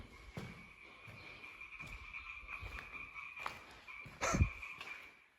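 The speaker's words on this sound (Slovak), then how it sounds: "Iba žaby tu počuť" Frogs croak outside a fire-damaged bakery, with repeated croaks at a moderate distance and a louder thump near the end.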